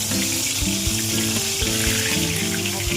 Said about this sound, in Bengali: বেগুনগুলো দিয়ে দিলাম, তেল গরম হয়ে গেছে,